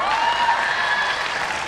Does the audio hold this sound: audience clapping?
yes